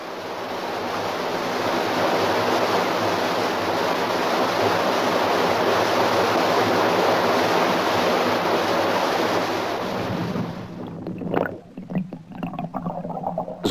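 Natural brook flowing steadily, a dense broadband rush of water that stays near and loud for most of the stretch, then drops away into fainter, broken splashing and trickling toward the end.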